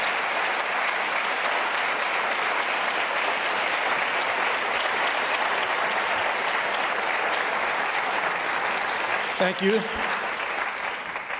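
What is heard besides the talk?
applause after a debate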